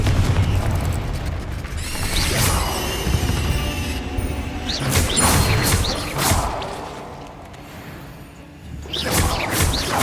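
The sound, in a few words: explosive spell blasts in Hogwarts Legacy video game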